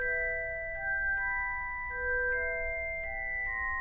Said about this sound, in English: the celeste is almost like that magical feeling bell.